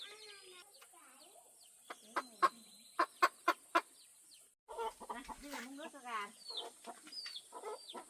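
A chicken gives a run of five sharp, evenly spaced clucks, then a flock of chickens chatters and squawks nearby, fuller and louder, with a voice faintly mixed in.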